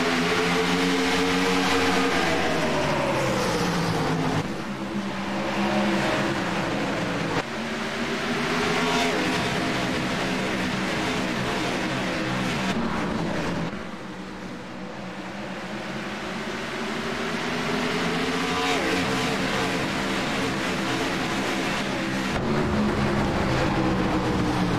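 Race cars roar around the Richmond oval in the iRacing simulator, a continuous loud engine drone with pitch sweeps as cars pass and shift, sustained throughout with no talk.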